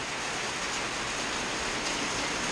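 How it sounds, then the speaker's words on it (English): Heavy rain pours down steadily during a big storm in Cambodia's rainy season, a loud, dense, continuous hiss of drops hitting surfaces with no pauses or voices. "A lot of rain."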